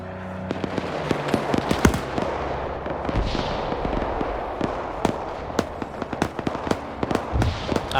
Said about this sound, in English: Oh god, now they're shooting each other.